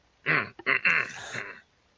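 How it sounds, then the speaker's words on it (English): A single little cough or throat clear, short and close, with a couple of quick bursts close together and no other sound around it. "I give out a little cough as he says his crossbow."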